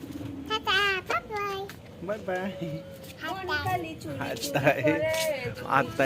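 Pet pigeons cooing on a rooftop garden, soft repeated coos close by, heard under frequent talk from an adult and a small child.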